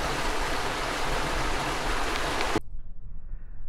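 The Suhodolska river, heavily polluted by sewage, flows at its confluence with the Vladayska river in a loud, continuous rushing roar that cuts off abruptly near the end.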